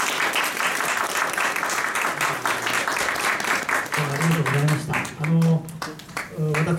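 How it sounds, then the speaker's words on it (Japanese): A lecture audience gives dense, sustained applause for speaker Shigeaki Koga at a Japanese parliamentary study session, and a voice begins speaking as the clapping tapers off. "もう一回の古賀さんに大きな拍手を。"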